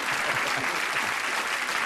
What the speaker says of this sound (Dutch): Applaus voor Bassie en Adriaan